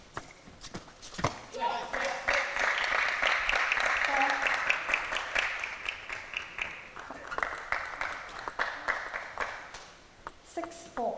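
Audience applause breaking out after a long table tennis rally at a team match, a swelling wash of clapping that peaks early and gradually fades, with a commentator talking over it and a few ball hits near the end.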